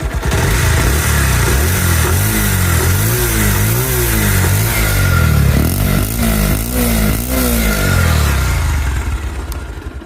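Bajaj Pulsar 150 motorcycle, a 2020 model, revved repeatedly close up, the engine rising and falling in several throttle blips over a steady loud exhaust drone before easing off at the end.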